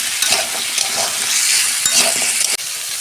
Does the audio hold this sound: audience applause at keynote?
no